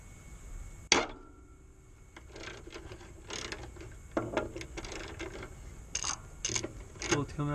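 A ratchet on a long extension loosens the starter bolt on a 2003 Ford F150, heard as repeated close clicking bursts of metal after a sharp initial clank, fairly quiet.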